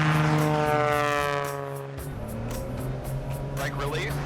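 A tailwheel airplane engine run up to full power with the brakes held before the takeoff roll, a loud droning propeller roar whose pitch shifts and then holds steady, close and continuous.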